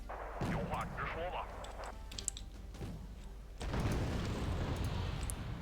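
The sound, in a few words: ATGM missile fire in Wargame Red Dragon video game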